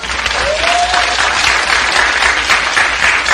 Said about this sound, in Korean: 우리 박수 쳐드립시다